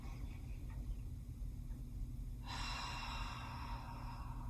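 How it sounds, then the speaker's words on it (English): A slow, deep breath during a relaxation exercise: a faint, close inhale followed by a longer, airy exhale, quiet and with no talking. "deep breath in, long breath out"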